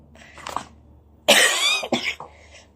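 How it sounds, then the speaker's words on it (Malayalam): Someone nearby coughs a few times, a short harsh burst followed by a couple of smaller coughs, with no speech. "ചുമ ഇങ്ങനെ ഉണ്ട് കേട്ടോ"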